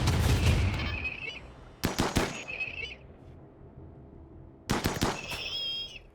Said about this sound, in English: he's going to get blasted by the turrets